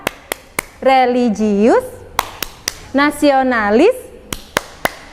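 A fourth-grade primary school class in Gondanglegi, Malang performs the Tepuk PPK hand-clapping routine: crisp, close claps land in a steady rhythm between chanted words.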